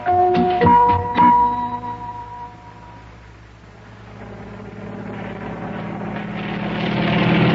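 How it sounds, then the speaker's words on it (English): A steady helicopter engine drone builds slowly and grows louder toward the end as it approaches, preceded by a few brief tonal sounds, in an old-time radio show. "Do you see what I see? It's a helicopter."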